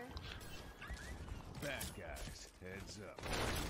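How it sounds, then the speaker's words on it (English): A rocket fires amid rapid bursts of gunfire and mechanical weapon noise during an Overwatch Halloween Terror 2019 match. The shots come as several sharp, fairly quiet blasts with game voices mixed in. "Accidentally fired my goddamn rocket."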